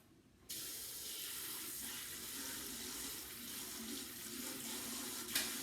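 Water runs steadily from a kitchen tap while something is washed under it, a constant close hiss that starts abruptly and continues alone, with a brief clatter near the end.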